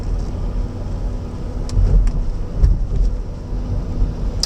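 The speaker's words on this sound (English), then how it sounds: "a disappointing amount of suspension noise" Jaguar X-Type 2.5 V6 SE estate driving over a speed hump, with a low rumbling road and cabin drone and a few dull thuds and knocks from the suspension, fairly loud, without speech.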